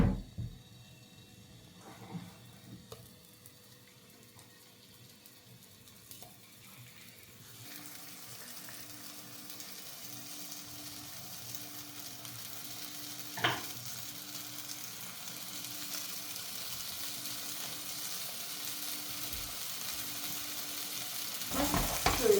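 Tomatoes fry in melted fat in a pan for a breakfast dish. A quiet background gives way to a steady, broad sizzle that builds and holds, close and continuous, with occasional sharper crackles.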